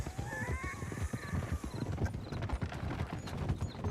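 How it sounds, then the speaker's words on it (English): Hooves clip-clop in a steady rhythm as a horse trots in Red Dead Redemption 2, with a faint whinny near the start, heard under quiet game ambience. "Get a hold of that horse, will you?"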